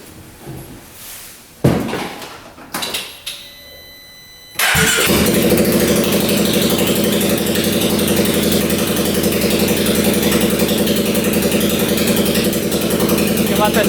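A UTV engine cranks with a few clicks and thumps, then catches and settles into a loud, steady idle that drones evenly for the rest of the stretch, with no talk heard.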